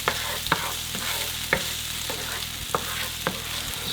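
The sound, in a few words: sautéing peppers and onions in a pan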